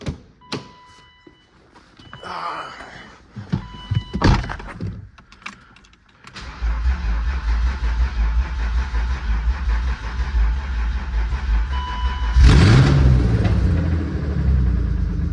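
Car engine starting after fuel is added: a few clunks and knocks, then the engine catches and settles into a steady idle, with a sharp rev surge near the end.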